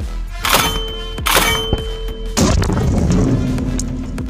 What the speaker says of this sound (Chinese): 刚刚只是试射了一发， 铁桶上被打出一个巨大的洞。